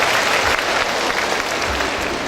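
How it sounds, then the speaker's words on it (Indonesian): Audience applause at a Halal Bi Halal teachers' gathering: dense, loud, continuous clapping from a large crowd, filling the space evenly from start to finish. "Tepuk tangan buat orang tua kita."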